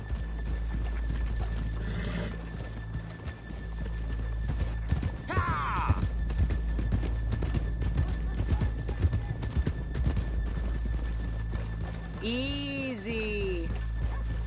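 Horse hooves clip-clopping in the Red Dead Redemption 2 video game on PS4, a steady close rhythm of hoof beats over a continuous background bed, with a horse whinnying near the end and a voice speaking briefly.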